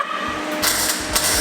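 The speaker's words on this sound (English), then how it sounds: "Welding now, man." Welding on the body of a worn, wrecked Ford Focus RS, heard as short buzzing, crackling bursts with hissy gaps between them, close and fairly loud.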